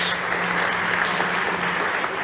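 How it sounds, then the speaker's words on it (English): An audience at a startup competition stage claps in steady, dense applause, loud and sustained across the whole moment without any talk on top. "Big applause for Kirill."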